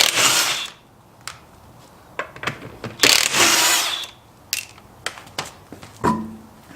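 Under a Volvo 960, someone removes the wheels with a ratchet, making sharp metallic clicks and clanks mixed with short, loud, rasping mechanical bursts, all close by and irregular.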